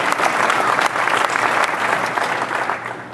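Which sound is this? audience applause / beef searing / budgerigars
audience applause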